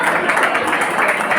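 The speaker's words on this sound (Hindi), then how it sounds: "पंडित श्री राजीव जी के सम्मान के लिए जोरदार ताली बजाकर हम स्वागत करेंगे" A ceremony audience at a camp closing and prize-giving event claps loudly to welcome Pandit Rajeev Shastri, a brief burst of dense, steady applause.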